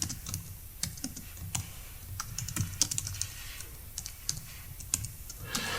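Typing on a computer keyboard comes as a close series of quick, uneven key clicks with brief pauses between bursts, quiet and with no voice over it.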